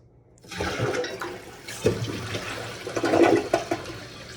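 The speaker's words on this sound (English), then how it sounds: "show you this flush right now" A brand-new 2025 TOTO Drake toilet flushes at home, a loud, close rush and gurgle of water swirling down the bowl with irregular surges as it drains.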